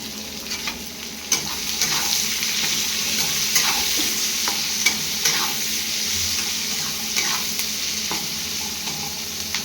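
Onion frying in hot oil with cumin and bay leaf for chicken curry, a steady loud sizzle with occasional stirring scrapes and clicks of a spatula.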